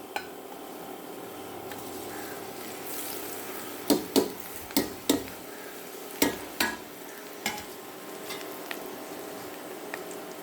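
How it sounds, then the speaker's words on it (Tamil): Chopped ridge gourd frying in a pan with onions, turmeric and salt gives a soft, continuous sizzle under a series of sharp metallic scrapes and taps from a spatula stirring against the pan, about eight knocks in quick succession. "நம்ம வெட்டி வச்சுக்கிட்ட பீர்க்கங்காயும் மஞ்சள் பொடி உப்பு போடலாம் பீர்க்கங்காய் எல்லாத்தையும் உள்ளே மேலே போட்டுருவோம்"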